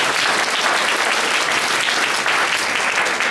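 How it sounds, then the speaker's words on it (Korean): A church congregation applauds steadily to welcome the pastor at an evening revival service, a dense, even wash of many hands clapping at close range with no voices over it. "우리 박수로 환영하겠습니다."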